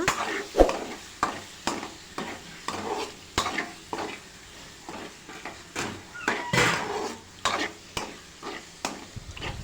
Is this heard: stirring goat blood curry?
yes